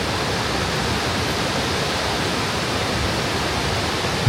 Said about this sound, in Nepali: जुनोको सबैभन्दा प्रसिद्ध झरनाको नाम हो नगेट झरना।